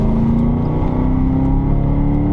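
A 2021 Aston Martin DBX ultra-luxury SUV pulls hard under acceleration, its engine giving a steady, loud, continuous drone with a rising tone heard from inside the cabin.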